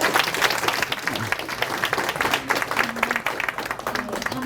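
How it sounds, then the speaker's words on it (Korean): A lecture audience gives a lecturer a round of warm, dense applause, many hands clapping continuously and loudly at close range, with a faint voice murmuring underneath. "저희 강사님 뜨거운 열정으로 가득 찬 강연해 주셨으니까 박수 한 번 더 크게 주실까요?"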